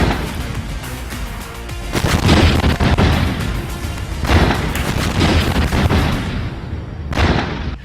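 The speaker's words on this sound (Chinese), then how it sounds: "第一次观摩打实弹，女兵们被巨大的炮声吓了一跳。" Powerful booming tank cannon blasts firing live rounds, two or three heavy shots with rumbling aftershocks, loud and close, the low roar filling the gaps between firings.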